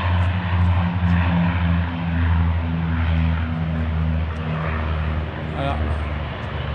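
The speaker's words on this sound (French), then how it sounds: "ce qu'on entend, c'est les Canadair" A Canadair water-bomber aircraft drones steadily overhead with a deep, even propeller-engine hum, loud and continuous throughout, with voices faintly present underneath.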